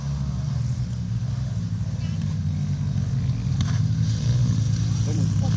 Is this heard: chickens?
no